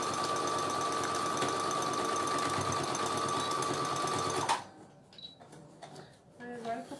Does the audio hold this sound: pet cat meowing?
no